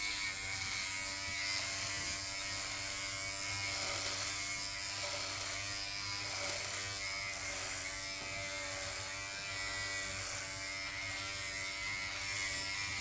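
An electric hair clipper fitted with a 6mm guard cuts hair for a sports-style haircut, giving a steady, unbroken motor buzz close by that holds level throughout with no talking.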